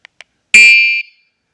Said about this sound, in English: It has a built-in horn.